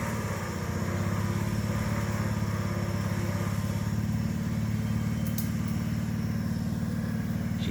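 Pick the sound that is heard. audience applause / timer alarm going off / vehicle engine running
vehicle engine running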